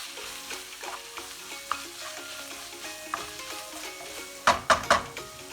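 Pasta meat sauce fries in a pan under steady stirring, with a close sizzle, soft scrapes, and a few louder spoon knocks against the pan toward the end.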